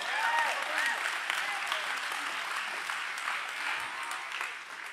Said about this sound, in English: Would you give him a hand clap?